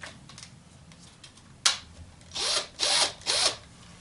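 A power drill whirs in three short bursts, its motor pitch rising and falling as it drives screws into wood, after a sharp click and some light handling noise.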